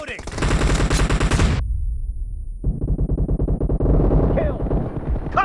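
An M416 assault rifle fires in rapid automatic bursts in the mobile battle royale game Battlegrounds Mobile India, loud close cracks with a short pause mid-clip before firing resumes, game voice callouts sounding over the shots.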